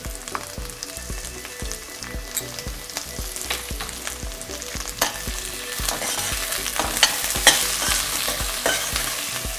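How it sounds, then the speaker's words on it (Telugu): Vegetables and spices for a plain beetroot vegetable pulao fry and get stirred in a pan, with a steady sizzle, repeated spoon scrapes and stirring clatter that grow a little louder toward the end; nobody speaks. "బాగా ఫ్రై అవ్వండి"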